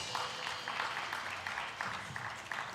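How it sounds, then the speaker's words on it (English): Audience at an event launching a movement to end FGM in Nigeria gives a round of applause, a steady crowd patter of many hands with occasional louder claps, filling the whole moment with no talking. "Another round of applause for him."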